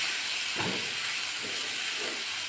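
Sliced onion and capsicum cooking in a pan, a constant close hiss with three soft stirring scrapes spaced across the moment.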